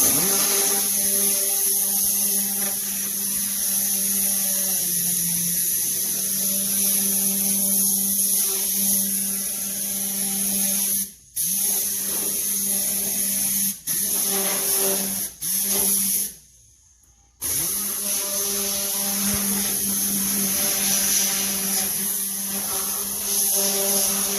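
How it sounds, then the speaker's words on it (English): Air-powered tornado cleaning gun spraying engine shampoo over an engine bay, a steady loud hissing whoosh with a constant high whine, broken by a few short gaps where the trigger is released. "the tornado gun does most of the job for you"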